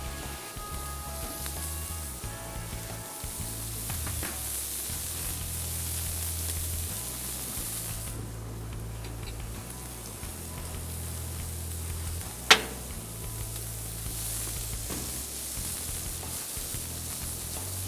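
Burger buns sprayed with olive oil char on a hot grill, giving a steady broadband sizzle and hiss for the whole stretch, with a single sharp click near the end and no talking.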